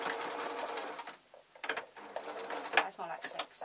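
A sewing machine stitches a waistcoat in short, close whirring runs with small mechanical clicks between them, and a faint voice is heard underneath.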